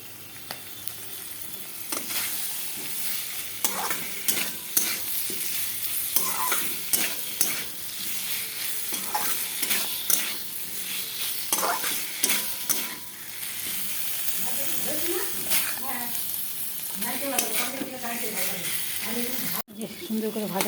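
Potatoes and pointed gourd stir-fried with rice in a pan, a continuous crackling sizzle broken by repeated scraping stirs of a spatula, with some faint talk in the background.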